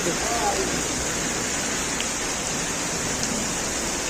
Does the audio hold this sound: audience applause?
no